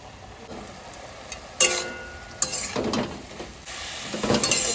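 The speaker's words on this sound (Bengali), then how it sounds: "এবার আমার কুমড়ো শাক কষানো হয়ে গেছে" Pumpkin greens frying in a pan after ground chili paste goes in, a low sizzle punctuated by a few sharp spatula scrapes and stirs, close up with no voices.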